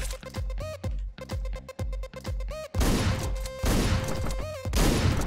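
Shotgun blasts in the video game Hotline Miami go off repeatedly over a driving electronic music track with a steady pounding beat, loud and dense throughout.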